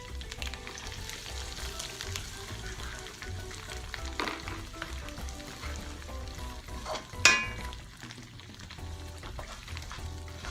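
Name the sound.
onions frying and browning in a pan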